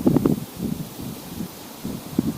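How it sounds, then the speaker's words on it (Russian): Strong gusty wind buffets the microphone in low rumbling bursts near Pripyat in the Chernobyl zone, rising and falling with no voices present. "Дует сильный ветер"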